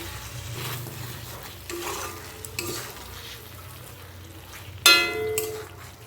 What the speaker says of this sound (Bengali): এবার এটাকে আমি আরেকবার মিশিয়ে দেব।